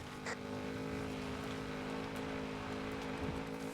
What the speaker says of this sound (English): Racing through the rainforest. This is actually a really cool dirt road.